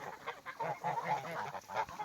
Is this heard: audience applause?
no